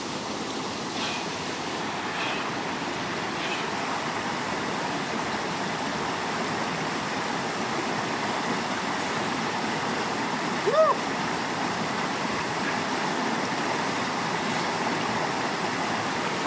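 A river flows on a hot summer afternoon, a steady, even rush of water that fills the whole stretch with continuous moderate noise.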